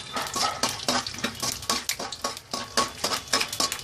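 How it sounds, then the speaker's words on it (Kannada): Peanuts frying slowly in oil over low heat in a home kitchen, giving a busy, steady crackle with repeated sharp clinks of a spatula against the pan, close and fairly loud throughout. "ಕಡಲೆ ಬೀಜ ಕ್ರಿಸ್ಪಿನೆಸ್ ಬರೋವರೆಗೂ ಸಣ್ಣ ಉರಿಯಲ್ಲಿ ನಾವು ಫ್ರೈ ಮಾಡ್ಕೋಬೇಕಾಗುತ್ತೆ"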